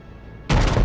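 A warship cruiser fires its naval guns in World of Warships, a sudden loud booming salvo that cuts in after a quiet moment and rumbles heavily to the end.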